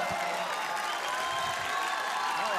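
Applause and crowd noise from an audience at a live comedy show during a 2016 festival, a steady dense wash of clapping held throughout at even loudness.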